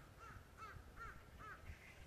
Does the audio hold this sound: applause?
no